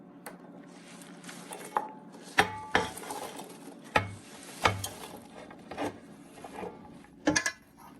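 Chopped chard is dropped into a cooking pot for Lebanese lentil and lemon soup, giving soft rustling and several sharp metallic clanks and knocks from the pot and utensils, close by and without talk.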